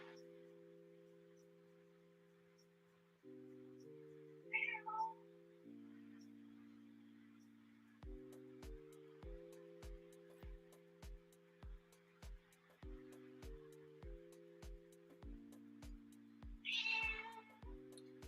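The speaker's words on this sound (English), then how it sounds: "my cat is a baby" A house cat meows twice, two clear separate cries, each about a second long, over quiet background music with sustained synth chords and a steady rhythmic beat.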